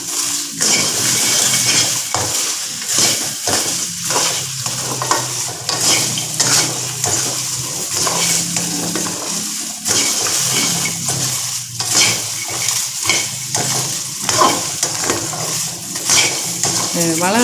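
Okra sautéing in a pan without oil, stirred steadily with a utensil scraping and clinking against the metal, a continuous sizzle running underneath for the whole stretch.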